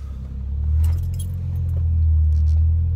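A Ford Mustang engine turns over and settles into a low, steady rumble, with a light metallic jingle like keys near the start.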